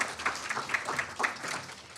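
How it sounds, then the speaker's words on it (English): A small audience at a youth panel session gives a brief, modest round of applause, the scattered claps soft and fading quickly. "we can give them a round of applause"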